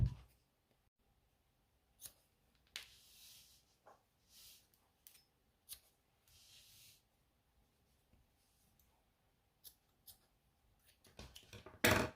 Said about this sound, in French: Donc, je vais couper mes 20 bouts.